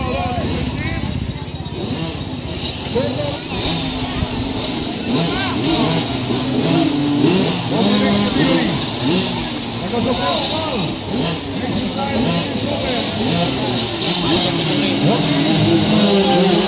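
A 50cc motocross bike races with its small engine buzzing and revving continuously, a steady mid-level drone under constant excited commentary from a voice.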